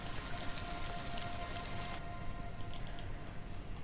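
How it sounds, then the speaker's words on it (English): A gated rain atmosphere sample: steady rain patters in a dense wash, then the texture abruptly thins and cuts partway through, leaving sparse drops. "There's some rain, an atmosphere thing, gated atmosphere"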